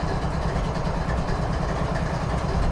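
Two GE freight locomotives, an ES44C-H and an ES44DC, idle at the head of a heavily loaded train, giving a steady low diesel rumble that stays even and fairly loud throughout with no voices.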